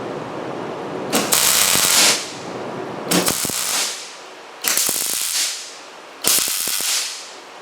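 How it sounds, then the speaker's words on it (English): A Millermatic 210 MIG welder laying a stitch weld, heard as four loud crackling, hissing bursts of about a second each, separated by short pauses. "So I don't know if you guys can see that stitch weld in there."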